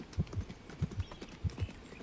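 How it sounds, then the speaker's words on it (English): Horse galloping sound effect: hooves clip-clop in a steady, driving gallop, with paired heavy beats repeating about three times across the moment, close and fairly loud with no voices. "collectively, Knight and Rider are galloping towards you."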